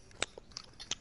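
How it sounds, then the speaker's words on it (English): Someone slowly nibbling a burger, three or four short, crisp bites and chews spaced apart, close and fairly quiet, with no talking. "I just hear him slowly nibbling on a burger."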